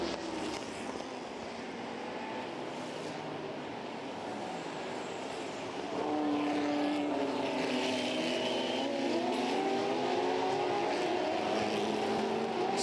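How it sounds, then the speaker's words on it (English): Ford GT40 race cars at the Le Mans Classic roar past at a distance as a steady, blended engine drone, swelling louder midway as a higher whining engine note rises and falls. "Seven GT40s lead the race here. 7 GT40s."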